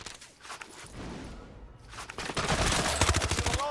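Gunfire from an SMG in the Warzone video game on Rebirth Island: a short burst, a brief lull, then a sustained rattling stream of rapid shots, close and loud.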